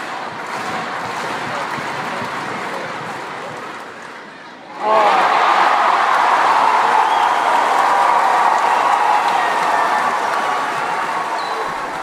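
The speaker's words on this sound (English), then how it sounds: "this is a little recording of how the crowd was like during that match" Crowd at a 2016 Australian Open tennis match bursts into loud, sustained applause and cheering after a brief dip, a dense roar of clapping that continues steadily to the end.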